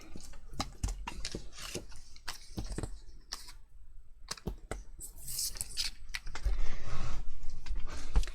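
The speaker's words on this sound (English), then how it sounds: "Let's quickly die cut that out." Paper label tab being die cut for a pop-up slider card, giving a series of sharp clicks, presses and rubbing scrapes close by at an uneven pace, with a denser grinding pass near the end and no talking.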